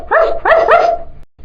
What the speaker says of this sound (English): The sound of a dog barking scared the cat so much that it jumped up onto the table in fright.